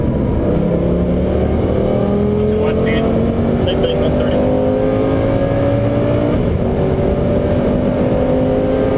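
A 2006 Lamborghini Gallardo pulls hard in third after a paddle downshift, engine note rising steadily, dipping at a shift and climbing again, heard from inside the car under a loud, constant road and wind roar.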